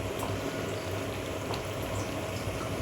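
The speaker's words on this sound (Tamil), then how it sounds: "எப்படி கொதிக்குதுன்னு பாருங்க, நல்லா மணமாக இருக்குது." Sardine fish curry (mathi meen kuzhambu) simmers in a pot at home, with a soft, continuous close-up bubbling and no talking.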